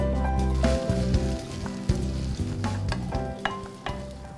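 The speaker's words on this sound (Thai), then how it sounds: "กระทะร้อนๆครับน้ำมันลงในกระทะครับมันฝรั่งที่เราพักไว้ครับ" Potatoes frying in hot oil in a hot pan, a steady close sizzle with occasional stirring clatter and crackles, with no talk, over a low background hum.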